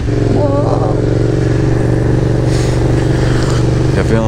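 Fast race car engine in a video game droning loud and steady throughout, with brief higher revving rising near the start and end.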